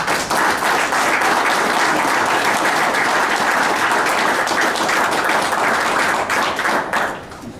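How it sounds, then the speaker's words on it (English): Sustained audience applause fills a council chamber, loud and dense with many hands clapping steadily for several seconds before tapering slightly at the end. "Give him a round of applause."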